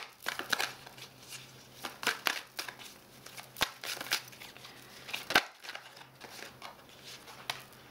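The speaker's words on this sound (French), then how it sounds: "On va tirer une carte." Quiet, close papery clicks and flicks of cards being handled and drawn from a deck, coming in irregular bursts with brief pauses between them.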